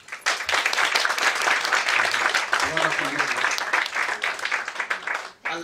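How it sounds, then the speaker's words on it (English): A crowd at a company's 17th anniversary celebration event claps in a loud, sustained round of applause, with some voices underneath, before it tapers away at the end. "Let's give us one more clap."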